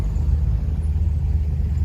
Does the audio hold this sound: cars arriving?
yes